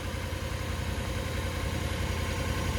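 A 2004 Toyota Land Cruiser 100 Series idles nearby with its exhaust connection just refitted, giving a steady low rumble with a faint rhythmic pulse and no voices.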